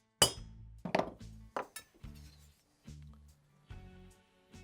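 A brass punch taps dowels into a cylinder on a Harley-Davidson Sportster 883 fitted with an S&S 1200cc kit. Half a dozen short, close metallic clinks fall in an uneven rhythm, the first ones the loudest, with quiet gaps between them.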